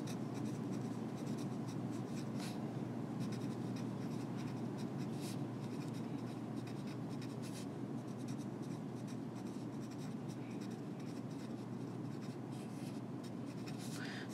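Pen writing out notes for a lecture on metabolism, a steady, close scratching of strokes that runs continuously with faint ticks and no voice over it.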